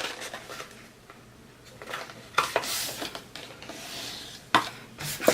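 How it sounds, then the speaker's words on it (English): Scored card for a gift box being folded and burnished, soft close rubbing and scraping strokes with a few sharper creasing swipes, irregular and fairly quiet, no talk. "So now we're just going to fold and burnish."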